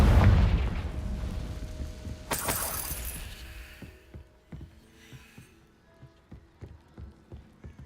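A Confringo spell explosion in the Hogwarts Legacy video game: a heavy boom opens, a bright shattering blast follows, then a string of softer thuds and crackles fades out.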